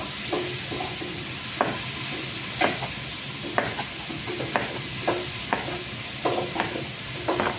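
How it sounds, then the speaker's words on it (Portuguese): Beans sautéing in a pan give off a constant close sizzle broken by regular clacks of a spoon stirring against the pot, about one knock per second. "Deixa eu refogar aqui meu feijão."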